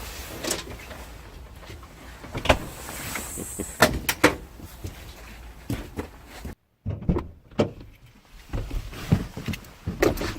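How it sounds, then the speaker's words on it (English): A door is shut with a few knocks and clicks of handling and a solid closing thump partway through, close by, followed by a brief silence and more scattered clunks. "Probably should close my door."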